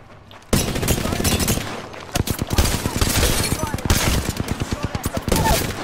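Gunfire in Apex Legends, loud and close, with rapid automatic bursts starting abruptly, brief pauses, then more sustained rattling fire and single heavy shots mixed in, with a voice talking underneath.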